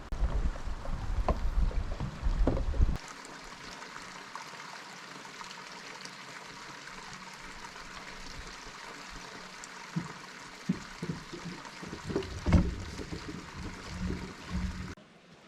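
A creek runs beneath a wooden bridge on a moderate hiking trail at Gila Cliff Dwellings in New Mexico, a steady close wash of flowing water with a few knocks and footsteps, no talking.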